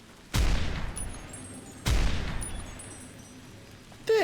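Two loud, sharp shots from a semi-automatic gun in the video game Fallout New Vegas, each a sudden crack with a long decaying echo, about a second and a half apart, with a third beginning at the end.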